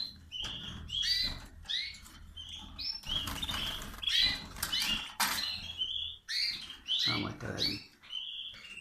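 Spanish timbrado canaries in a home aviary with breeding pairs and chicks sing in bright bursts of trills and chirps, with wing flutters and soft patter between phrases, fairly close and quiet.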